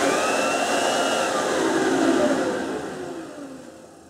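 A homemade trash-burning furnace's blower fan runs on its loudest setting, a steady, loud broadband whir that holds for a few seconds and then gradually eases off.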